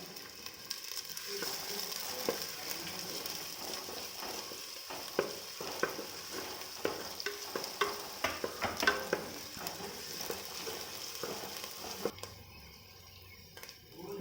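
Chopped onion, ginger and garlic frying in a pan for Indian-style egg fried rice crackle in a soft, even sizzle, with repeated clacking stirs building midway and the sound dropping away near the end.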